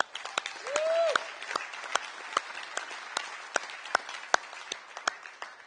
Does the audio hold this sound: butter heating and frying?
no